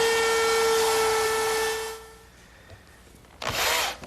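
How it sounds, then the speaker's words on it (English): A router table fitted with a 1/4 inch rounding over bit whines loudly at high speed while easing the edges of a wooden trestle tabletop, then winds down to quiet before a short burst of noise. "now I'll relieve these edges with my 1/4 inch rounding over bit in the router table"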